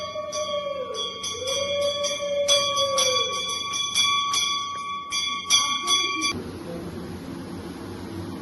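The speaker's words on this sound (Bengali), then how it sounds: "ও ঘন্টা বাজাচ্ছে।" A hand bell rung during Hindu worship at home, chiming in a quick, steady ringing pattern for about six seconds before stopping, leaving a soft room hum.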